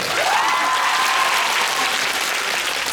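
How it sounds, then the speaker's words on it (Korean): Steady, dense applause fills a concert hall as an audience claps together for a performing group, loud and continuous throughout, with a faint whistle-like tone rising briefly near the start and no talk. "박수!"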